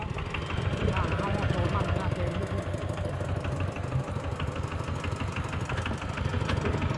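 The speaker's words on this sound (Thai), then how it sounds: "เขาขี่รถไถเขาเองเนาะ เอารถไถเขามาเอง" A tractor engine idles with a steady rhythmic chugging close by, while people talk over it throughout.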